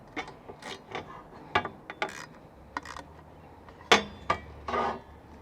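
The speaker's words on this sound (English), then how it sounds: "just cinch him down with the 8mm" Ratchet wrench with an 8mm socket cinching a nut down over a shake-proof washer on a 12-volt travel oven door, a series of quick dry clicks and short bursts, close and fairly quiet with no talk.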